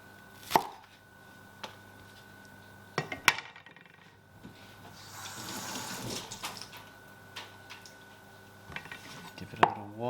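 A knife cutting spring onion on a board, a few sharp separate chops spread apart, with running water from a tap in between and no talking.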